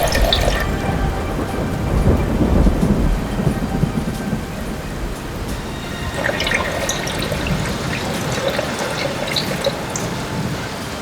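Heavy pouring rain hisses steadily while deep rumbles of thunder roll through, loudest early on and again partway through, with no voices.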